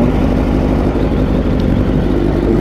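A motorcycle fitted with a black Two Brothers exhaust, idling with a loud, steady low rumble that stays close and even throughout, with no talk over it.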